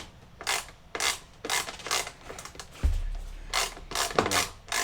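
Phillips head screws are turned out of a Bissell CleanView Swivel Rewind Pet 2254L vacuum, making a run of close ratcheting, scraping clicks in uneven bursts, with one low thump partway through.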